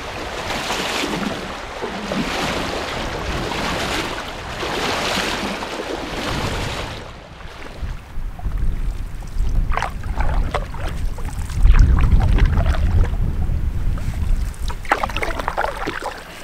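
A river waterfall on the Aguanish roars as a steady broadband rush heard from a canoe, loud and close with wind buffeting the microphone, then water sloshing and paddle knocks take over in the later part.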